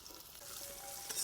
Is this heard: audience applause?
no